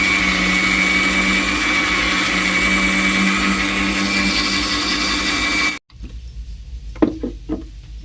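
A mixer grinder roars loudly and steadily for almost six seconds, grinding soaked dal, then stops abruptly, leaving a few faint clinks and knocks.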